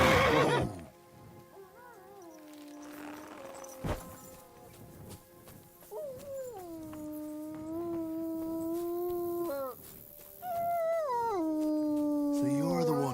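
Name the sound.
dog howling, from the video game Kingdom Come: Deliverance 2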